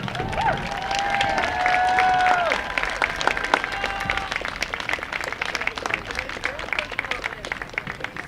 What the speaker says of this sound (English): Let's give a big round of applause for our band.